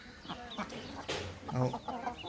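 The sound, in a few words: rooster clucking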